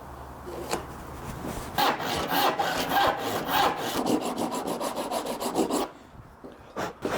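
A handsaw cuts through hardwood in quick back-and-forth strokes, rasping loudly and close up, then stops briefly before a few final strokes.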